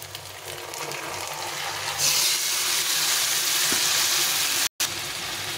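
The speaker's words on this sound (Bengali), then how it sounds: "এখন আমি ম্যারিনেট করা মাংসটা দিয়ে দেবো" Marinated mutton hits a pan of fried onions and garlic with a steady, close sizzle that swells into a louder, denser hiss after a couple of seconds and keeps going almost without a break.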